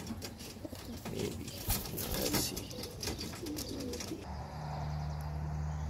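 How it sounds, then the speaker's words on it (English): A young pigeon in a loft gives soft, close coos and a few chirps, with a brief quiet exchange of talk near the start. "Yeah, this is the new bird."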